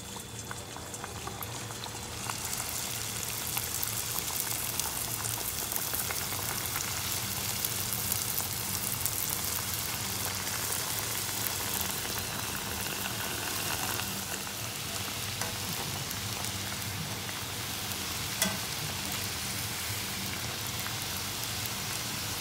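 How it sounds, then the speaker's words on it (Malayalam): Bhatura dough fries in hot oil, a dense steady bubbling sizzle that continues evenly and close throughout without any talking. "അപ്പോൾ ഈ ഒരു കനത്തിൽ പരത്തിയിട്ട് നമുക്കിത് പൊരിച്ചെടുക്കാം."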